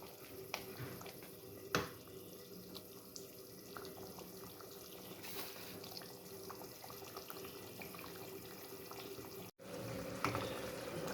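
Masala for aloo matar curry fries in a pan, a faint, steady low sizzle running throughout with a few soft clinks and stirring sounds.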